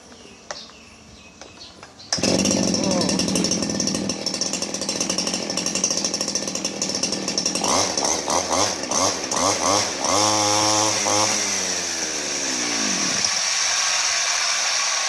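A repaired secondhand small engine, serviced with new piston rings, starts after a quiet stretch and runs loud and continuous, buzzing like a chainsaw, its pitch revving up and down several times before settling near the end.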